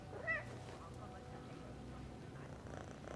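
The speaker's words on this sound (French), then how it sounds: "il y a beaucoup de joueurs qui caressent les chats" A cat purrs softly while being petted in Assassin's Creed Mirage, with a brief meow near the start over a steady low game ambience.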